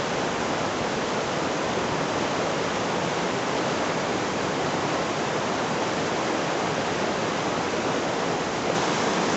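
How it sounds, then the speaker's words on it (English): A rapid river rushing along a trail between Callander and Comrie in Scotland gives a dense, steady roar of fast water, close and loud, continuous throughout with no voices. "the river's quite rapid today"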